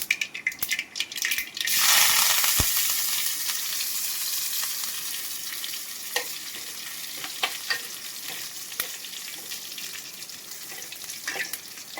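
Mustard seeds and curry leaves hit hot oil, setting off a sudden loud sizzle that settles into a steady crackle with sharp scattered pops from the seeds, heard close and alone.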